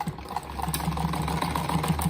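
A sewing machine runs steadily while stitching a patchwork apron, a continuous low motorized whir with a faint repeating needle rhythm.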